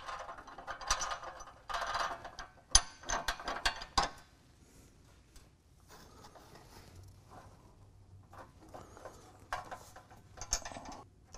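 A ratchet tightens a tow hook mounting bolt under a car bumper, with bursts of rapid clicking and metallic clatter separated by quieter pauses, close up and without speech.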